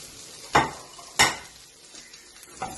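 Taro and koorka (Chinese potato) fried with curry leaves, stirred in a pan: two sharp scraping clinks of a spoon against the pan, then a quieter one, over a faint background with no talk.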